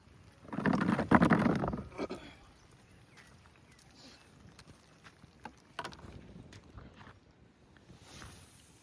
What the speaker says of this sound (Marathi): वारा आहे ना.